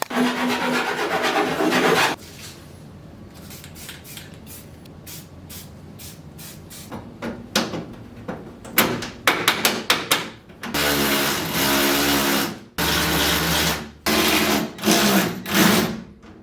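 Harsh grinding on a metal bracket for a Colorado ZR2 tire trim kit in repeated bursts, a rasping buzz that starts and stops several times, loud and close, with quieter stretches between passes.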